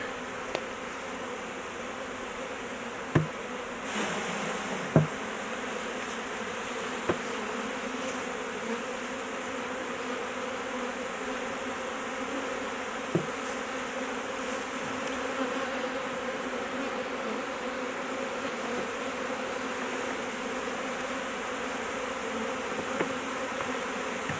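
A honey bee swarm freshly installed in a Layens hive gives a steady, continuous buzzing hum throughout, with a few faint knocks and clicks from the hive work and no talking.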